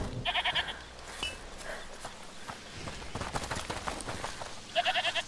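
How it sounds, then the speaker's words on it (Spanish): Goat bleats in the video game A Plague Tale: Requiem, two short wavering calls at the start and end, with footsteps and scattered ambient game sounds in between. "Escuchad, ¿es la cabra que mencionó?"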